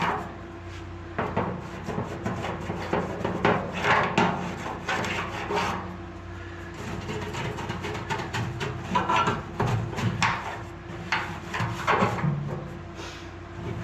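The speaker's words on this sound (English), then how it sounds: "Switched over to a little plastic brush to get down here in these lips." A small plastic brush scrubs inside a cheap parts washer in quick, uneven strokes, a close, dry rasping that comes in bursts and short pauses.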